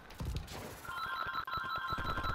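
A telephone rings in a Call of Duty match, a steady electronic trill that starts partway through and continues over rapid gunfire and impacts.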